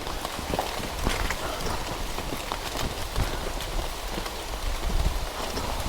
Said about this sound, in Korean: 빗발 다시 굵어지는데